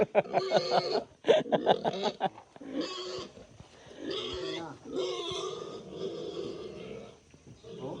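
A native pig, heavily pregnant and short-legged, on a small farm in Cayabo, Tanay, gives a run of grunting, snorting calls up close. They come in uneven bursts with brief pauses, loud at first and then softer.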